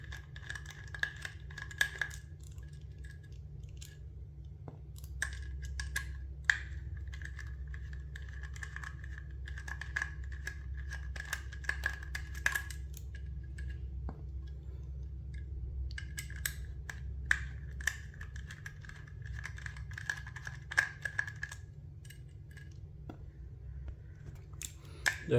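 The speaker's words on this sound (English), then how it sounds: "we will remove this disc screws actually. One by one." Screws are backed out one by one from a WD 500GB 3.5-inch hard disk, giving small, close metallic clicks and scrapes over a steady low hum, with no talking.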